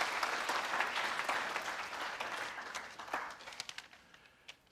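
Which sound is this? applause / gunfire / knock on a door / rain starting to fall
applause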